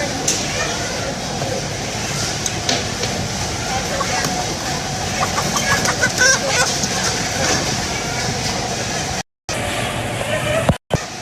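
Many chickens cluck and squawk at a crowded slaughterhouse, a dense overlapping racket of fowl calls with people talking in the mix, broken by two brief cutouts near the end.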